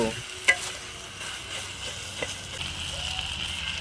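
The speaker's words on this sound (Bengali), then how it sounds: "এবার আমি একটু এটা ভালো করে ঘেটে দেব" Bean curry being stirred in a frying pan: a spoon scrapes and knocks against the pan a few times over a soft, steady sizzle, heard close.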